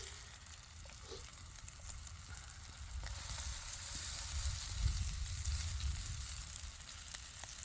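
Sausage and potatoes sizzle steadily in a pan for an off-grid breakfast, a constant frying hiss that swells slightly midway, with no talking over it.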